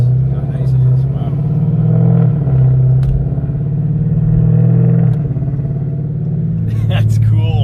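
A 2018 Dodge Charger with the 6.4-liter engine cruising and shifting smoothly, its loud, steady engine drone dipping and rising at each gear change, heard from inside the cabin with occasional clicks.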